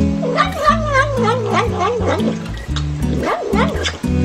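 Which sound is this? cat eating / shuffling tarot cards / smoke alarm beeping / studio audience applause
cat eating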